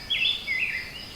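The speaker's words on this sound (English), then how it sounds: "You can hear the birds" Birds in Weiser State Forest at a morning campsite, two short quiet chirps close together against a soft background.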